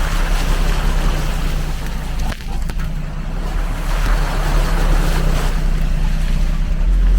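A vehicle drives through deep water in a Saudi Arabian wadi, with a steady loud rush and splashing of water and engine rumble throughout and a brief dip partway, with no talk.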